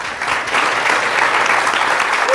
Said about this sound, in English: Please give our guests another round of applause.